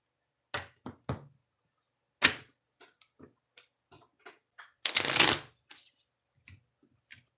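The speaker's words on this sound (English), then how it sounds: "One more shuffle." Cards being shuffled in a few quick riffling bursts, with one longer, louder riffle near the end, plus scattered light taps and clicks.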